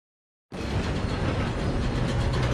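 After half a second of silence, a train's steady rumbling roar in Red Dead Redemption 2 starts abruptly and continues loud and unbroken.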